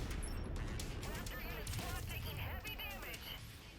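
Mech weapons fire in MechWarrior 5, a dense burst of crackling shots and impacts layered with game sound and the player's voice.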